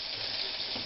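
Pelmeni dumplings frying in a pan give off a steady, even sizzle, fairly quiet and close, with no voices over it.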